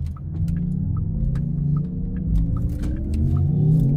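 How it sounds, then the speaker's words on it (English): Artificial engine rumble piped from a Porsche Taycan Turbo electric car while idling, a low steady throbbing hum that swells slightly toward the end, with faint clicks above and no talk. "it has that um that fake sound. And it sounds like a, an engine rumble, like it's idling"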